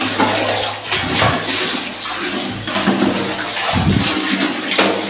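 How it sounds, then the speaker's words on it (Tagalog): Water pours steadily into a blue water tank that is nearly full, a continuous loud gushing and splashing with no talk over it. "Malapit na pala mapuno ang ating blue tank mga kaibigan."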